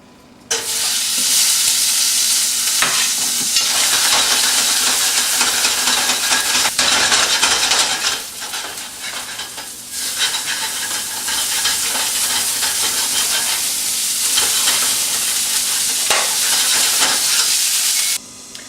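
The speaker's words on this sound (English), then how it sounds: "we are going to go ahead and saute our onions, garlic, and our meat to make our surf and turf" Onions, garlic and meat for surf and turf sauté in extra light olive oil, a loud continuous sizzle close by with occasional scrapes and stirring clatters from the pan, no talking.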